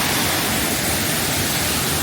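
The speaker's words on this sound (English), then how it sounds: "here's the waterfall at the end of the gorge, but it looks to be man-made" A man-made waterfall built with concrete at the end of a gorge in Slovenia pours down in a constant, dense, close hiss of rushing water that never lets up.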